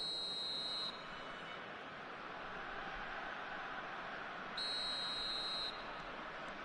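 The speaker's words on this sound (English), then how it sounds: "Whistle goes, and we start the second half." A referee's whistle in the eFootball 2026 football game on PS5 signals the start of the second half, two long shrill blasts over steady stadium crowd noise, one at the beginning and one near the end.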